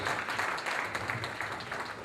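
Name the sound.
audience applause at gala night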